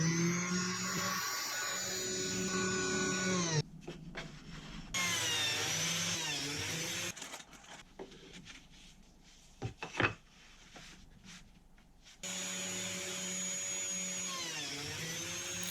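A biscuit joiner cuts slots into oak edge band strips, sounding as loud whirring bursts of motor and cutter separated by quieter gaps with small knocks and handling sounds, then a final sustained run.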